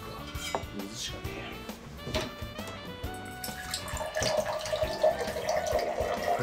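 Water runs and splashes into a sink among clinking dishes and cutlery, a steady pour building louder over the last few seconds.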